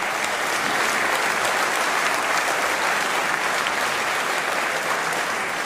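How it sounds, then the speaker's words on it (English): Audience applause fills a State of the City address hall, a steady, dense clapping that holds loud and unbroken throughout, with no speech over it. "Let's give her a round of applause."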